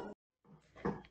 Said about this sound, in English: That was just my dog, Wilson.